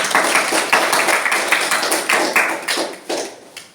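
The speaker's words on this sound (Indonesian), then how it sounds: "Oke, tepuk tangan dulu" A class of first-year madrasah students claps together in a lesson on prayer, with loud, fairly rhythmic hand claps in close bursts, slightly uneven and tapering toward the end.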